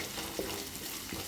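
Ginger garlic paste fries with onions in a hot pan for an egg curry, a steady soft sizzle with a couple of faint stirring scrapes.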